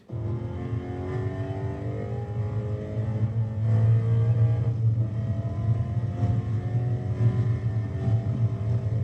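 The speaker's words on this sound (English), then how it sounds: "So we want to be on throttle. This is the longest straight on the racetrack." A race car engine holds full throttle down the longest straight of the NCM racetrack, giving a steady, loud droning roar that rises slightly midway and stays constant without any talking.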